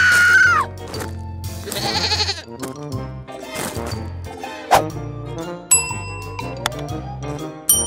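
A goat in an animated comedy story bleats loudly and close several times, mixed with cartoon music, chimes and tinkling effects.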